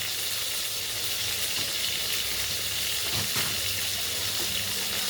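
Food frying in a pan at home, a dense, steady sizzle that runs unbroken the whole time, loud and close, with faint clinks and scrapes now and then.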